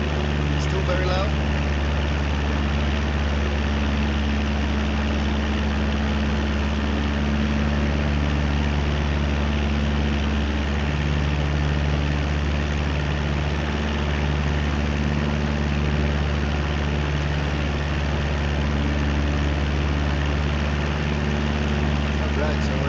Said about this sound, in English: Yeah, engine sounds were very loud, mate.